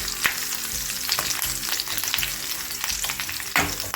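Garlic and dried red chilies fry in hot oil for a gongura dried-shrimp curry, giving a dense, close, crackling sizzle broken by sharp spatula clicks and stirring scrapes; no talking.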